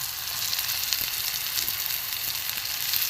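Grated egg and potato fry with spices in a pan, a dense, steady sizzle with faint stirring scrapes underneath, close and unbroken, no voices.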